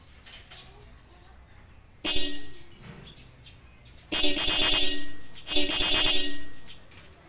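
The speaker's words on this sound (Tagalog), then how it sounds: "ngayon subukan na natin na ibusina" A car horn wired through a newly installed interrupter relay, on a car that already had a horn relay, sounds loudly: one short blast, then two longer sustained honks close by.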